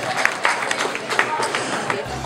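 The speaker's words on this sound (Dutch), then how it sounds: "We bedanken Melissa natuurlijk ook met een applaus." Audience applause follows a Miss Sint Niklaas semi-final pageant candidate: scattered, crisp claps ripple through a hall, blended with murmuring and a nearby voice.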